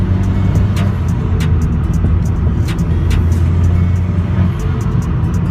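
A Vauxhall VXR engine with a stage 1 induction kit drones loudly from inside the cabin as it accelerates, with a steady low rumble and faint intermittent clicks and whooshes from the intake.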